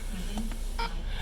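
Keypad tones from an NGTeco punch clock as a password is entered: two or three short, soft electronic beeps, evenly spaced and quiet, over faint room hum.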